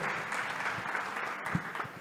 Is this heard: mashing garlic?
no